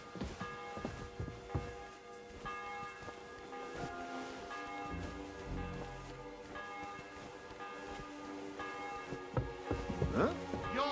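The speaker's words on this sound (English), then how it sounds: "The 11th toll of the bell. The last before the execution starts." A church bell tolls in the medieval game Kingdom Come: Deliverance II, deep ringing strikes with long humming decay, a few resonant hits overlapping faintly behind other ambience.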